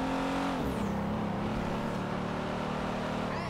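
G-Wagon engine in GTA 5 revving and droning close up, a steady loud motor tone with a pitch shift early on, continuous with no talking.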